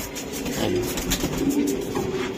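Racing pigeons coo in soft, low, repeated calls from close by, overlapping into a murmuring chorus.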